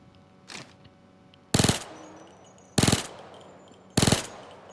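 A micro Uzi submachine gun fires in the game Payday 2 in three short, loud bursts, evenly spaced, each a rapid rattle of shots with faint mechanical noise between them.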